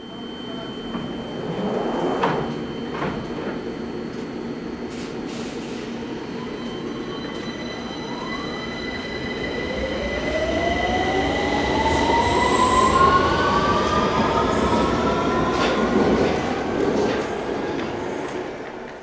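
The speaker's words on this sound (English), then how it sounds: "it's mainly for their distinctive traction motor sound" A London Underground Victoria line 2009 stock train runs with its traction motors whining upward in pitch as it accelerates, over steady rumbling wheels and rail noise that grows slightly louder, heard alone.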